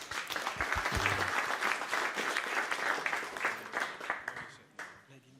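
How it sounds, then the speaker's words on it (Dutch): Steady audience applause at a live Dutch election results night show, dense clapping lasting several seconds before thinning out, with a voice partly heard underneath. "Een applaus."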